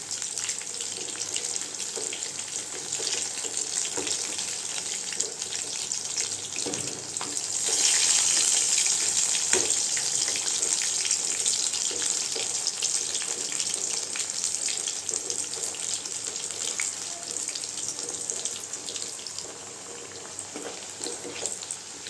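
Brinjal chilli pieces fry in hot oil with a continuous dense sizzle that swells slightly midway and holds steady for over twenty seconds, close and alone with no voices.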